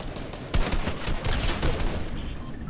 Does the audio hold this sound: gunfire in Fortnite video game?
yes